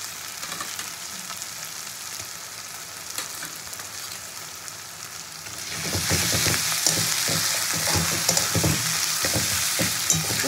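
Green chilli paste fries in a pan for chicken biryani: a quiet background hiss for the first half, then a loud, bright sizzle bursts up around six seconds, with stirring clatter and crackle continuing to the end.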